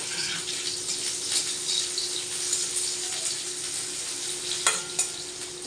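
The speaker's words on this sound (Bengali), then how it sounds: "এগুলো ভাজা ভাজা করে নিচ্ছি বন্ধুরা" Chopped onions and three green chillies fry in a pan, a steady soft sizzle under occasional stirring scrapes, with a brief sharper clatter near the end and no speech.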